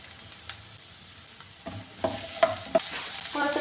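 Onions, shallots and green chillies fry in a hot pan for a tomato curry, starting as a low hiss that builds with clattering stirs and utensil taps against the pan, close and voiceless.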